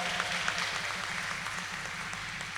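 An audience applauds a federal deputy at a lecture, a soft, steady wash of many hands clapping that sounds faint and distant, with a low murmur underneath.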